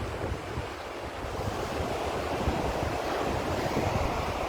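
Sea waves roll steadily onto the shore along the beach road between Old Digha and New Digha, a continuous broad wash of surf with wind across the microphone and no voices.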